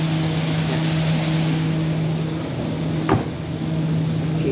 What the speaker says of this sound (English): we're being followed by the street cleaner.